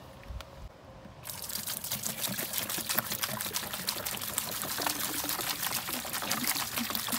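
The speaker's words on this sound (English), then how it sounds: "Now let's fill this bucket up with our RV antifreeze." RV antifreeze pours steadily into a bucket, a continuous close splashing trickle that starts after about a second and runs unbroken to the end, loud and alone.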